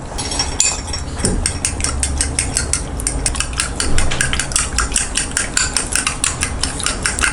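Beaten egg with pepper, chili powder and kuzhambu gravy is whisked briskly in a bowl for muttai kalakki, giving a fast, steady run of sharp clicks and taps against the bowl.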